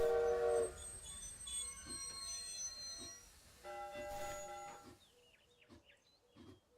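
A train arrives in the railway management game Railroad Corporation, with a horn blast at the start, then rolling rail sounds and squealing tones that fade to quieter clicks and clatter.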